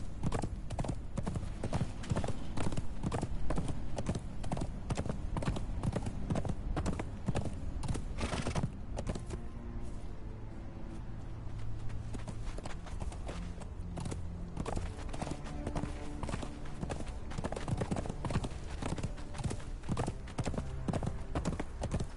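Horse galloping in the Conan Exiles video game, producing steady rapid hoofbeats that run continuously throughout, loud and close, with a brief whinny-like sound partway through.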